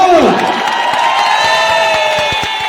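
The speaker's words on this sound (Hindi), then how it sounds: "एक बार जोरदार तालियां।" Crowd at an award function cheers and claps, a loud burst of shouts and applause that starts strong and carries steadily to the end, with a voice rising briefly at the start.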